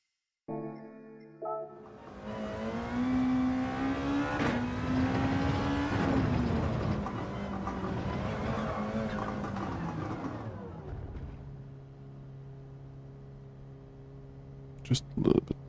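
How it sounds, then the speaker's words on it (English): A car engine in the racing video game Gran Turismo 7 on Trial Mountain, revving loud and up close with a rising, sweeping pitch for several seconds, then dropping to a steadier, quieter drone, with a few sharp knocks near the end. "I think the engine noise is a little bit muted."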